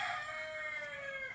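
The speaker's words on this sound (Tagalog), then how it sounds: "Itong manok guys." A rooster crows close by, one drawn-out call that holds steady before trailing off.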